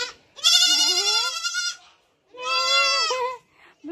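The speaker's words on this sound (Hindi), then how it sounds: "आ गए सब बकरी" Goats bleating loudly and close by in a rural village, two long wavering calls separated by a short pause, with a brief third bleat starting at the end.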